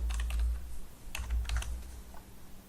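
Quick keystrokes on a computer keyboard while CSS code is entered, a few clustered taps close by over a low background rumble.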